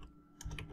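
Typing on a computer keyboard: a short burst of a few soft, close key clicks with no voices.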